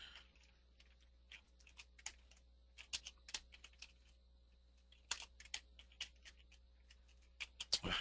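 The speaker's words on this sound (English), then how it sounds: "Forgive my typing." Quiet, irregular typing on a computer keyboard, scattered bursts of key clicks with pauses between them, close but faint over a low steady hum.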